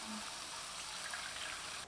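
Water poured into a pan while making sapota milk kesari, a steady broadband splashing stream that runs close and continuous for nearly two seconds before cutting off abruptly.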